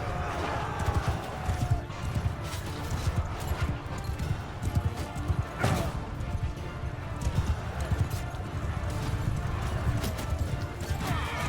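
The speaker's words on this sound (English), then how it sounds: "It's not good when that many empty horses follow you." Many horses gallop in the Bannerlord video game, a continuous dense clatter of hooves with occasional whinnies and a crash, while a voice talks over the rumble.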